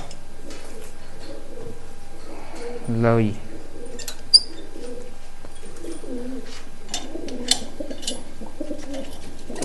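Shakha breed pigeons in a home loft coo in a soft, throaty burst near the middle, with other faint bird calls, a couple of sharp clinks and a brief spoken voice.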